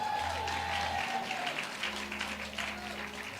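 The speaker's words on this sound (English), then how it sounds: "Let's give her a round of applause." Audience in a church hall at a Baptist missionary convention in Rockland applauds a senior pastor marking her 19th anniversary, a steady, full burst of clapping that runs throughout, with a faint tone and murmur underneath.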